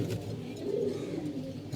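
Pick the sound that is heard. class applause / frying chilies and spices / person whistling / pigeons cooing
pigeons cooing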